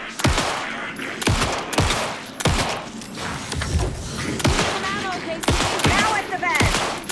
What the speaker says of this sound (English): Shoot him.